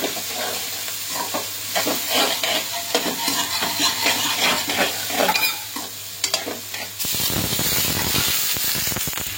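Chopped onion with turmeric stirred into dosa batter, a steady scraping and mixing rhythm with soft sizzle, close and fairly loud, shifting to a denser, busier hiss near the end.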